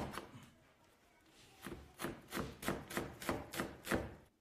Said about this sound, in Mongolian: Сонгино хэрчин.